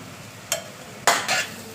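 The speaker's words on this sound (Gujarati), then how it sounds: "અને મસાલા બધા આપણે અંદર મિક્સ કરી દઈએ." A spoon stirs ground coriander-cumin, garam masala, turmeric and red chili powder into onions frying over low heat, with a steady faint sizzle broken by a few short, bright scraping sweeps against the pan.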